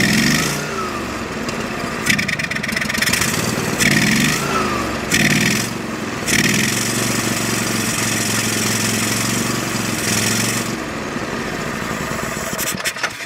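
A small Go-For digger engine runs loud and close, its pitch rising and falling through several uneven revs and surges over a rough, rattling idle.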